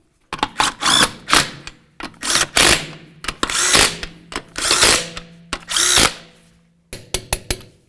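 A power tool runs 21mm lug nuts onto a 2011-2016 Hyundai Elantra wheel in a series of loud, close rattling bursts, some long and some short, separated by brief pauses. No one speaks.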